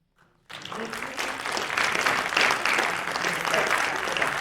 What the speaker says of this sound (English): Gesture clap to Jillian.